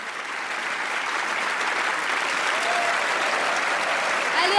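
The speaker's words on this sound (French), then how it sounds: "Je vous demande de les applaudir pour les remercier." Sustained applause from an audience at a model contest finale, honouring the models made up for the show; a dense, steady wash of clapping that holds at an even level and rises slightly toward the end.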